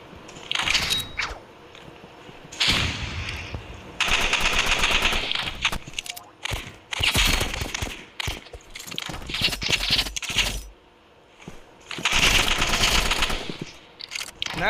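Bursts of rapid automatic gunfire from the Roblox shooter Rivals come in repeated loud volleys with short gaps, a few single shots between them and busy game sounds throughout.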